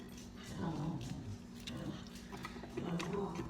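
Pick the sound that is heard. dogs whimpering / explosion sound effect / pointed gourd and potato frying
dogs whimpering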